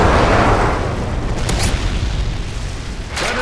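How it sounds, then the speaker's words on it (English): An airstrike explosion in a first-person shooter game, heard as a loud, sustained rumbling boom that fills the whole clip, with a couple of sharper bursts near the middle and end. "Friendly airstrike inbound."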